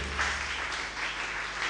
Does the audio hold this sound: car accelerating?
no